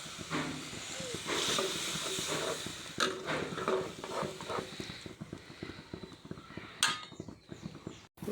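A pot of curry with ginger paste, green peas and a splash of water comes to a boil before pangas fish goes in, giving a steady close hiss with dense popping and bubbling and a few sharper bursts.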